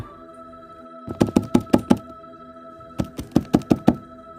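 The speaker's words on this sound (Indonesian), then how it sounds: "aku disadarkan pintu ada yang mengetuk kembali dari luar" Two bursts of firm knocking on a wooden door from outside, each a quick run of about six raps, loud and close, with a brief pause between the sets and no talk.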